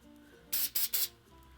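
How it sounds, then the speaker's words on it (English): Three quick hissing bursts of hairspray sprayed at the roots of hair, close and fairly loud against a quiet room. "So then I'll just take some hairspray."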